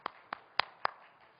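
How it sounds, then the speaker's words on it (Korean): Church congregation applauding, heard as four sharp, evenly spaced claps in unison, fairly faint against a quiet room. "우리 하나님께 영광의 박수 올려드릴까요?"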